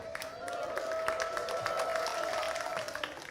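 Church congregation clapping steadily, a dense patter of hands under a sustained tone, at moderate volume.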